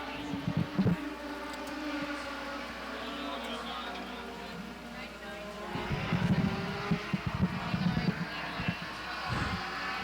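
Legends race cars roar down the backstretch and into turn three at Waterford, a steady engine drone with surging passes, heard at a distance beneath continuous race commentary.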